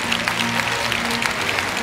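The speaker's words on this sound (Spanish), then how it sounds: "Póngase de pie y denle un aplauso al Señor de señores" Audience applause at a church service, a dense wash of clapping hands filling the space loudly and continuously for a couple of seconds, with a low murmur of voices underneath.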